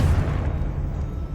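Confringo blasting spell in Hogwarts Legacy sets off a loud, deep explosive boom that rumbles and slowly fades over a second.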